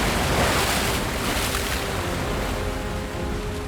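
Ocean waves surging onto a sandy beach shelf, a continuous loud wash of surf with broad rushing noise and some wind buffeting the microphone, no voices.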